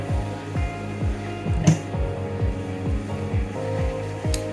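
A sewing machine stitches down a trouser front pocket in steady repeated bursts of needle strokes, close and continuous with a low motor hum, no voices.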